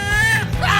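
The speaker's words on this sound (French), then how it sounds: "c'est quoi ces cris?" Loud, sustained high-pitched scream with wavering pitch, close and alone, from an animated cooking-challenge scene.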